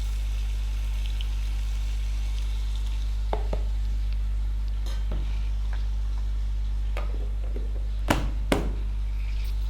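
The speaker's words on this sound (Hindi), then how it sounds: "ये देखें हमारे प्याज फ्राई हो गए। अब इसके अंदर 1 चम्मच भर के लहसुन अदरक का पेस्ट डालूंगी।" Onions fry with garlic ginger paste in a pan, a steady low sizzle under a constant electrical hum, with a few sharp clinks of a spoon against the pan near the end.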